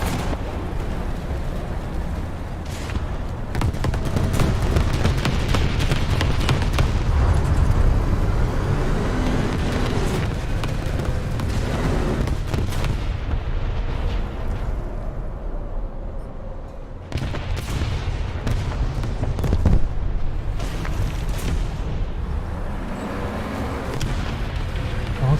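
Continuous heavy rumble of artillery barrage explosions in a naval combat video game, dense low booms and blasts layered into a loud, sustained roar with a few sharper bursts and one brief dip.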